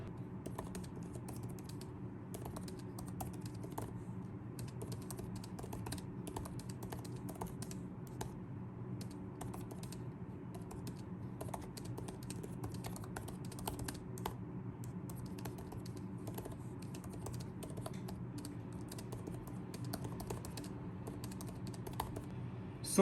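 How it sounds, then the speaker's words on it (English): Rapid, continuous typing on the scissor-mechanism keyboard of a 2020 Apple M1 MacBook Air, soft close clicks pattering in an uneven stream for over twenty seconds with no voices. "Let me quickly show you by typing a couple of sentences."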